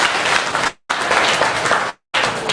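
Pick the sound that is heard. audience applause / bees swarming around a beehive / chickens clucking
audience applause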